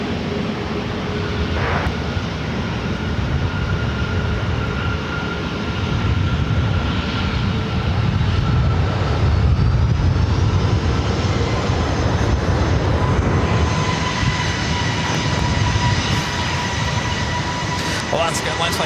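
Alaska Airlines Boeing 737-900ER jet at LAX producing a loud, continuous engine roar with rising whine tones, heard under people talking.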